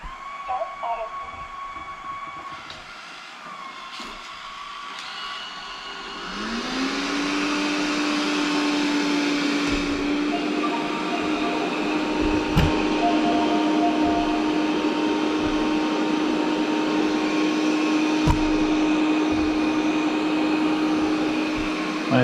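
A Proscenic M9 robot vacuum cleaner starts up midway and runs at full power indoors, a steady loud whirring hum with a rising motor tone that holds to the end over faint room noise.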